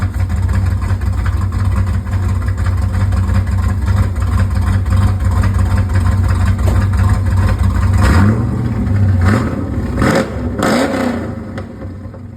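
A 1996 Ford F150 pickup with a 351 V8 idles in a loud, steady low rumble, then revs sharply several times near the end, with rising and falling engine roars close by.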